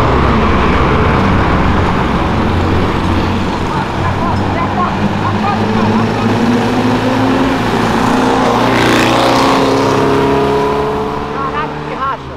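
Loud motorcycle engines roar and whine past close by, rising and fading as the bikes speed through, with voices talking over them.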